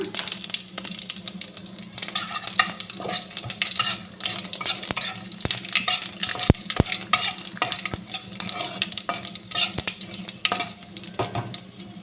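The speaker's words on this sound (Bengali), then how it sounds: "এই তেলেই আমি তেজপাতা ফোড়ন দিলাম একটা। একটুখানি সাদা জিরে দিয়ে দিলাম।" A bay leaf and a little white cumin fry in hot oil as a tempering, giving a steady close sizzle broken by frequent scraping and clinking stirs throughout, with no talking.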